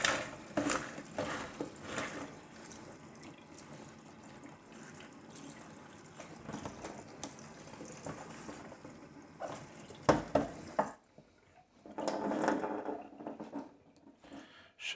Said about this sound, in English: Just rinse this under cold water.